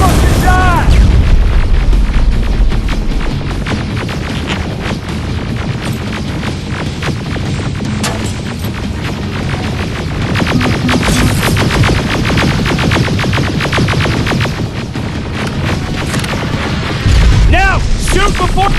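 Rocket explosions boom through a Terminator: Resistance firefight, dense and continuous with repeated heavy blasts, gunfire and mechanical clatter over the full stretch, while a voice shouts in the mix.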